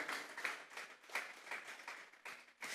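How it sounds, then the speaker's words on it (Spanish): A church congregation claps together in a brief offering of applause, a dense patter of hands at a moderate distance with uneven surges and no talking. "Vamos a darle una ofrenda de palmas de Dios en esta hora."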